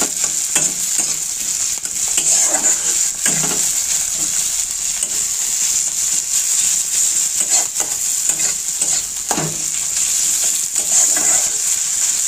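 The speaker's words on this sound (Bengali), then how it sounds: "আবার একটু হালকা নাড়াচাড়া করে নেবো" Tomatoes seasoned with salt and pepper are stirred in a hot pan, giving a steady, loud sizzle throughout, broken by a few scraping strokes of the spoon.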